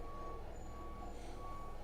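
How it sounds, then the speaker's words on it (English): Reversing beeps from a roadworks vehicle sound steadily in the background, a repeated high beep over a low truck engine rumble, moderately faint and continuous with no talk. "You might hear beeping and stuff like that."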